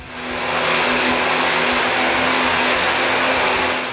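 A linear sander fitted with 80 grit sandpaper works over wooden coves on interior doors, a loud, steady broadband rasp with a constant motor hum, continuous and close for the whole stretch.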